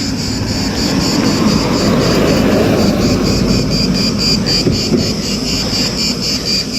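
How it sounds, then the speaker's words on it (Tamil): Cicadas buzz loudly and continuously in Greece, a dense high pulsing drone that holds steady over faint low background rumble. "அத்தன் நகரம் முழுவதுமே இந்த சில்வண்டு சத்தம்தான்"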